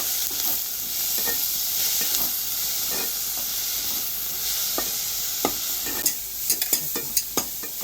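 Onions and tomatoes frying in a pan, a continuous sizzle and hiss with frequent stirring scrapes and sharper utensil knocks toward the end, close and without talk.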